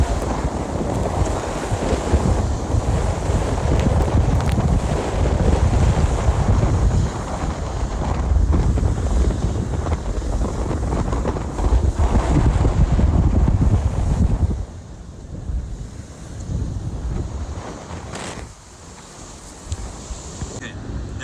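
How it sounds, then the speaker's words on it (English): Strong wind buffets the microphone aboard a Vendée Globe racing yacht at sea, a loud continuous roar with rushing water beneath that eases briefly near the end, with faint talk. "that's the wind"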